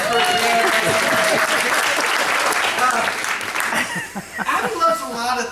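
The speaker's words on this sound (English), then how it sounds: "give her a nice round of applause for" An audience at a winery breaks into loud applause for Abby, with dense clapping and a few chuckles that thin out toward the end.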